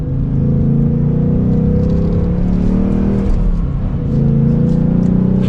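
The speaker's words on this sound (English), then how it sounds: "You mainly hear the exhaust." A 2022 Ford Mustang GT Coupe exhaust roars loudly as the engine pulls, pitch rising, dipping briefly, then climbing again.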